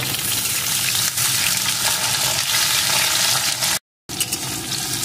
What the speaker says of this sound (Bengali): এখন এর ভিতরে দিয়ে দেবো একটা টমেটো কুচি, সাথেই দিয়ে দেবো 4টে চেরা কাঁচা লঙ্কা। এখন এগুলোকে একটু ভেজে নেব।